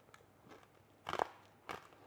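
A few crisp crunches of biting into crunchy ground toasted hazelnut praline, two distinct bites close up and quiet, with no talking.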